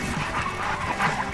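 Sled dogs from a Washington dog sled tour and racing outfit bark and whimper close by in a continuous, busy chorus of yips and whines.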